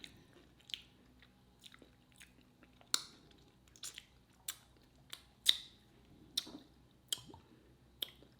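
Crisp crunching of chips loaded with homemade kale dip and lime, a dozen or so sharp bites and chews close to the mic, irregularly spaced in a quiet room with no talking.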